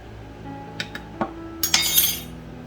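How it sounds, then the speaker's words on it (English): A metal spoon stirs a cayenne and apple cider vinegar drink in a glass, giving a few light clinks and then a brighter flurry of rattling chimes against the glass near the end. "And you want to stir this up really good."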